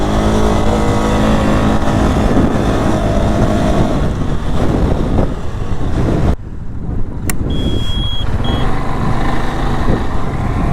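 A 2023 CFMOTO CFORCE 625 ATV engine held at high revs on a test ride, a loud, steady drone with wind buffeting that briefly dips midway before the engine note resumes.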